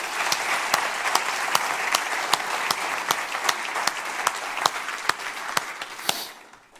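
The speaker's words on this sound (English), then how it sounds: "Let's give those guys a round of applause." An audience gives a round of applause at a church gathering, scattered distinct claps over a soft crowd wash, tapering off at the end.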